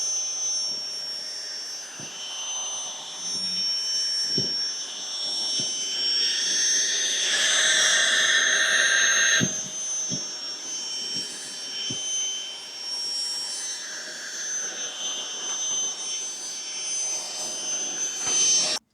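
A cordless handheld 24KPA rechargeable car vacuum whines loudly at high pitch while picking up dirt on a floor, its motor note rising and roughening as debris is sucked in, with soft knocks from the nozzle and no talking.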